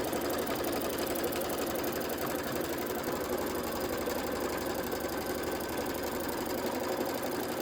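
An embroidery machine stitches out a quilted pillow block, a fast, steady mechanical chatter of needle strokes running continuously and evenly at close range.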